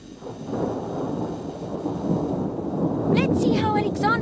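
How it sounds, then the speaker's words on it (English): Cartoon thunderstorm with a steady low rumble of thunder and rain building throughout, louder near the end, where a brief burst of high animated sound effects cuts in over the storm. "There's a storm coming."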